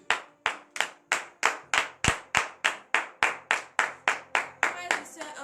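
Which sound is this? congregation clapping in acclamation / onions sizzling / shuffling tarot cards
congregation clapping in acclamation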